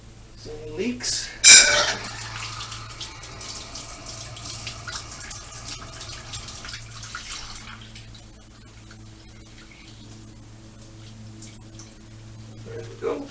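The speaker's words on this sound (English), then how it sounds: "Turn the water on." Water runs from a tap during outdoor plumbing work on a lodge's shallow-well water pump system, a steady broadband rush lasting most of the clip, louder early and easing off later, with a low pump hum beneath.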